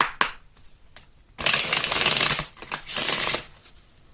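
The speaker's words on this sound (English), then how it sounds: "And now for Miss Chastity, go ahead and shuffle these a couple times." A deck of tarot cards is shuffled by hand in two bursts of dense riffling and flapping, close and fairly loud, with a few soft taps before them.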